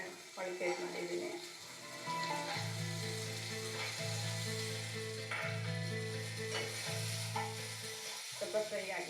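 Onion and soaked, sprouted green peas fry in a pan with a continuous close sizzle. Stirring scrapes recur in a regular rhythm, and faint speech is heard in the background.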